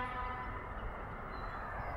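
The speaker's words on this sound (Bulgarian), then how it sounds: "Минава влак." A distant train rumbles faintly and steadily beyond a riverside park picnic spot, a low continuous drone with no voices.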